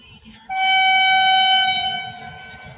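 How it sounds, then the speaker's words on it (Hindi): A train pulls into a railway station and sounds a loud, sustained horn blast of about two seconds, close and strongly tonal, over low rumbling noise and faint voices in the background. "ट्रेन आ गई, ट्रेन आ गई।"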